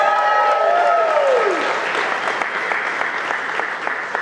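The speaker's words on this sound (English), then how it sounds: "a round of applause just for Make-A-Wish for all of us being here" Audience applause at a Make-A-Wish Foundation charity event, a loud, steady wash of clapping from a crowd that carries on throughout, with a brief rising tone early on before the clapping settles and continues evenly.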